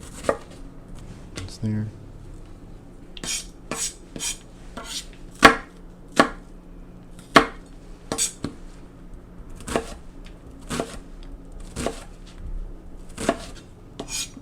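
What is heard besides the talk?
chopping an onion with a knife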